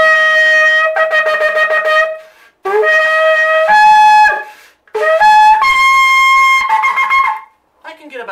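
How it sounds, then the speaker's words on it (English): A large shofar sounds three long, brassy blasts with rich harmonics, each holding steady before stepping up in pitch, separated by short breaths; loud and close, with no talking. "And this is a larger shofar."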